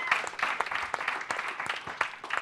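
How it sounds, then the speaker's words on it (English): Audience applause at a fireside chat panel event: a crowd claps steadily, a dense and moderately loud crackle of hands that carries evenly for a few seconds. "Give her a round of applause for that."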